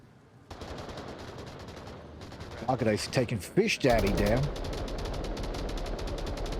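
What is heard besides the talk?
gunfire in a video game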